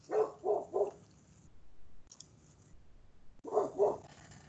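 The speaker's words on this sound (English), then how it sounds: "my dogs that are such good barkers" Black labs bark in a quick burst of three loud, close barks, then a pause with faint background noise, then two more barks.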